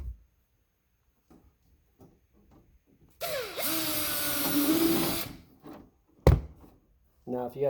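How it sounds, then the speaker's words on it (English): A power drill bores a hole through an RC Corvette body, starting abruptly with a loud, steady whine that runs a couple of seconds before cutting off, followed by a sharp thunk and brief talk. "We're going to drill that one."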